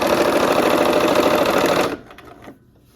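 Sewing machine stitching quilt pieces into rows, a fast steady mechanical whir for about two seconds that stops abruptly, followed by a couple of faint clicks.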